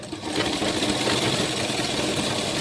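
A sewing machine stitches a petticoat hem in a steady, loud, continuous whir that runs unbroken without any talking.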